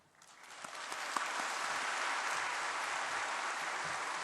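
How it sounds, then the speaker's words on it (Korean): A church audience claps to welcome pastor Kim Hak-jung, the applause swelling quickly into a steady, dense wash that holds to the end. "오늘 꿈의 교회 김학종 목사님 나오실 때 큰 박수로 환영해 주시기 바랍니다."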